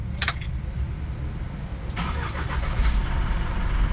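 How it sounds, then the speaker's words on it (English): A 3 ton lorry truck engine starting: a short mechanical click, then after a pause the starter cranks and the engine catches into a rumbling idle, close and fairly loud. "Engine start."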